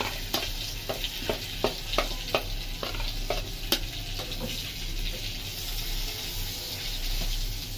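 Previously fried jatka fish reheated in a pan, a steady sizzle with a quick run of regular spatula scrapes and taps at first, then frying continuing alone.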